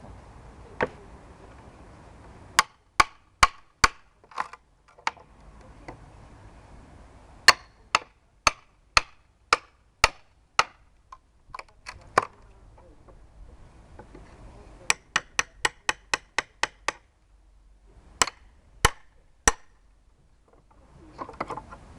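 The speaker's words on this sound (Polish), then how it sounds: "bierzemy łapkę i młotek i zabieramy tą deskę" A hammer and pry bar work a board off a Euro pallet: sharp wooden knocks and metallic strikes land singly and in fast runs of blows, loud and close, with quiet gaps between.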